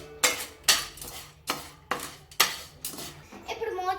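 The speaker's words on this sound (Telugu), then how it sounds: "ప్యాన్లో వేసుకోవాలి. ఇది కూడా వేసేద్దాం. ఇప్పుడు రెండు ఒకసారి కలిసేలాగా కలిపి వేసుకుందాం." Popcorn kernels and masala are stirred together in a pan, giving about seven sharp, distinct scraping and clinking strikes of a utensil against metal, close and fairly quiet, with a brief voice near the end.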